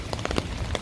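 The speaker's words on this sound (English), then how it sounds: "It's raining." Rain falls steadily on an umbrella on a city street in downtown Chicago, a dense close patter with a few louder drops standing out over the wet background hiss.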